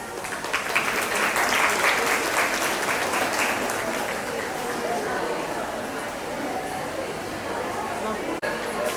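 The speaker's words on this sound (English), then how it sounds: "Can we have a round of applause, please?" An audience applauds a third-place winner at a Kahani Koa interschool storytelling competition, with dense steady clapping from a crowd that swells early and stays loud throughout, with faint chatter mixed in.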